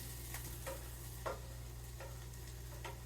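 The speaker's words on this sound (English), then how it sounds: "So we want to go ahead and stir in the parsley" Spoon stirring dried parsley into a cooking pan of tender food, a few scraping strokes spaced about half a second apart over steady low hum and faint sizzle.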